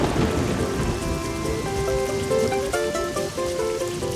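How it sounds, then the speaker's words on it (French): Steady rain falls outdoors as a dense, even hiss of drops on surfaces, continuous and fairly loud, with soft musical tones running beneath it and no speech. "Qu'est-ce qu'on est bien à l'intérieur quand il pleut dehors."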